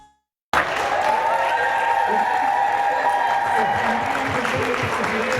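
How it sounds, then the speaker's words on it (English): A packed school auditorium erupts in sustained applause and cheering for a former student, a dense even roar of clapping and shouts that starts abruptly after a brief silence and holds steady throughout. "her alma mater gathered to cheer her on in the same auditorium where she performed in concerts, plays, and musicals"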